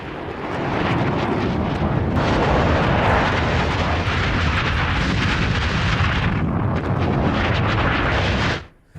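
An airstrike bombs a nuclear site at Natanz in an AI-generated scene, a loud sustained roar of blasts and rumble that cuts off abruptly at the end.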